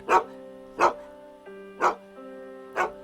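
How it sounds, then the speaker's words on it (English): A dog barks four times in an even, steady rhythm, loud and close, with a sustained musical tone underneath and no talking. "the dog began to bark"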